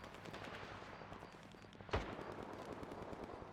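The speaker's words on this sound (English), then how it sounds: "I only hear one person shooting" Dense gunfire from a STALKER 2 firefight crackles steadily throughout, with one louder close shot standing out near the middle against the constant background shooting.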